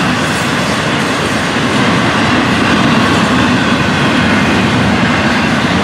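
A loud, close FEC 240 train rumbles past continuously, with a dense roar and clattering wheels on the rails and no pauses.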